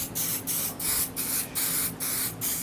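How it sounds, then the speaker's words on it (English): Spray adhesive is applied to quilt wadding in seven short, evenly spaced hissing bursts, each under half a second, close and loud with no voices. "you say you're just going to spray the wadding"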